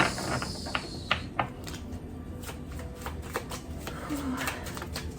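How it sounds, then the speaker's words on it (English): Repeated crisp riffling and slapping of tarot cards being shuffled, close by, with soft flicks and taps in a quiet room. "So we are going to shuffle a couple more times."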